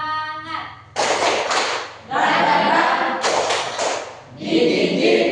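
A school class does a rhythmic spirit clap together, with bursts of group clapping and thumping in a patterned beat. A short tone comes before the clapping, and voices chant along between the beats.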